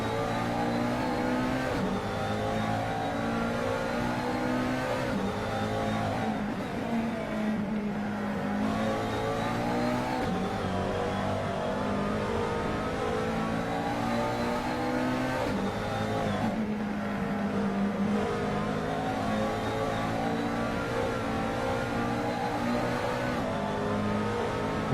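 McLaren and Ferrari GT3 cars race in a sim racing game at Mugello, with engines roaring loud and continuous and revs rising and falling through gear changes over the full stretch.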